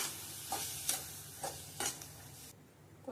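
Mango pachadi being sautéed in a pan, a soft continuous sizzle broken by several scraping stirs of a spoon, close and quiet, with no talk.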